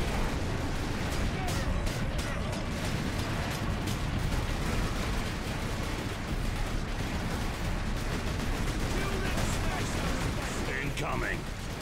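Constant gunfire and explosions in Warhammer 40,000: Space Marine, a loud, dense battle din with sharp shot transients over rumbling blasts, with a voice talking over it.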